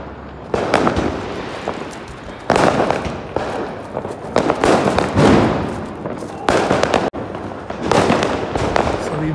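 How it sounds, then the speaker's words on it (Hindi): Firecrackers go off during Diwali celebrations in a residential neighborhood, long crackling bursts repeating loudly in several clusters with brief gaps between them, close by and dominating the scene. "सब तरफ पटाखे चल रहे हैं तो जोरो को घुमाना भी जरूरी है भैया"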